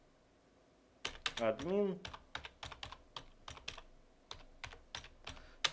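Typing on a computer keyboard while setting up a Django 5 project, with rapid irregular key clicks throughout and a brief spoken word near the start.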